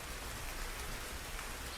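Steady rain falls in an even, continuous hiss with soft patter, faint and uniform throughout, with no voices or other sounds.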